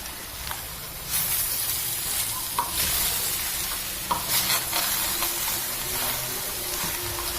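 Couscous and vegetables are stirred in a hot pan, giving a steady sizzle with occasional scraping clinks of a utensil, close by and without talk.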